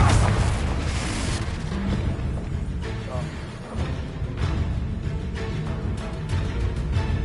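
Blasting spell explosions from Confringo in the wizarding video game Hogwarts Legacy, a dense run of booming bursts layered under constant game music and effects, with several sharp blasts standing out over a loud, busy mix.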